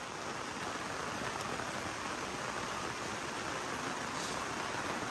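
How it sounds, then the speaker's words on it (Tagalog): Heavy rain pours steadily at a rainy mountainside campsite on Mt. Acato, a dense, even hiss of drops on surfaces that continues without a break and with no voices. "Malakas yung ulan."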